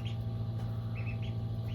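Pet bird Howard calls in the background of a garden bonsai pruning session on a cork bark elm: a few faint, short chirps repeat over a steady low hum.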